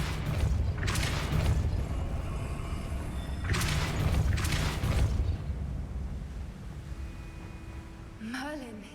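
Depulso force spell from Hogwarts Legacy, cast as deep booming blasts that recur in bursts with rumbling low end, ending in a short rising whoosh; game sound and voices continue under it.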